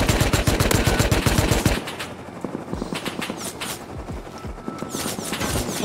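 Rapid bursts of automatic gunfire in a survival shooter game, a fast loud rattle of shots for the first couple of seconds followed by scattered single and distant cracks, with no talking.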